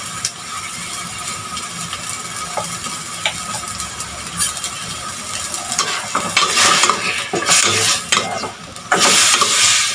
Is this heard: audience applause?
no